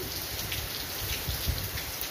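Light rain falling outdoors near a garden, a soft steady patter of drops on surfaces, even and continuous at moderate level with no voices.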